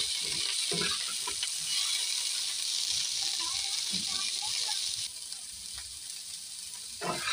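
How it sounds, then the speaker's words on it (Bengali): White and green cauliflower sizzling lightly in oil in a pan, a steady frying hiss with soft stirring scrapes, under a voice speaking. "সাদা সবুজ ফুলকপিটা দিয়ে একটু হালকা ভেজে নিতে হবে।"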